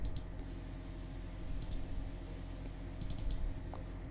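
Mouse clicks on a Windows computer settings screen: a few quick, faint clicks, a pair near the start and a cluster toward the end, over a low steady hum.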